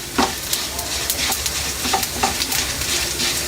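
Shrimp shell powder mix being fried in ghee until golden and stirred in a pan: a continuous close sizzle with sharp spoon scrapes and clinks scattered through it, no talking.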